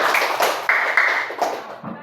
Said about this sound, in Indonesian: Risma, tepuk tangan dulu untuk Risma.